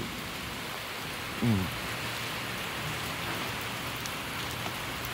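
Heavy rain pours steadily at a workplace, a dense, continuous hiss of drops on surfaces with a single brief thud near the start and no voices.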